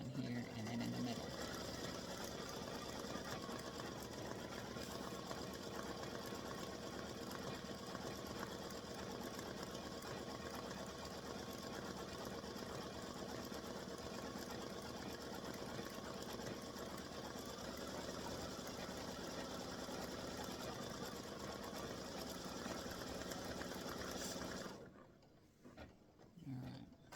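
A sewing machine stitches an appliqué block in a steady, continuous mechanical whir for about twenty-five seconds, then stops abruptly, leaving near silence with a faint rustle.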